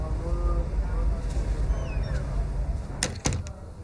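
A door is shut in a Formula 1 video game cutscene on PS5, two sharp close knocks near the end over a low ambient hum.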